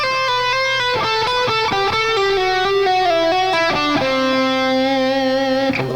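Electric guitar plays a fast run from the Queensryche Speak solo using pull-offs and slides, a quick cascade of legato notes with a distorted, sustained tone, close and loud with no voices.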